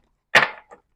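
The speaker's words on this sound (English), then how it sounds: "As I shuffle these cards" A quick papery riffle as a deck of oracle cards is shuffled: one sharp burst followed by a softer, shorter flick, close by and otherwise silent.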